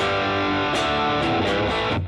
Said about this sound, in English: This sounds like a distortion pedal, and I'm pretty excited about that.